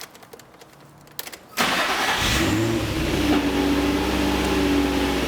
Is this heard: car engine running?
yes